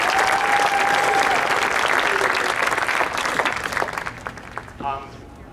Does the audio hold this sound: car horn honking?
no